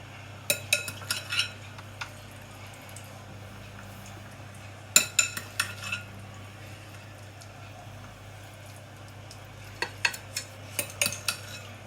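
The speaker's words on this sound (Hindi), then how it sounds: "अब हम कीमे की लेयर लगाएंगे।" Mutton keema is spooned into a dish as a layer, with bursts of light spoon clinks and taps against the dish over a low steady hum. The clinks come in quiet clusters separated by pauses.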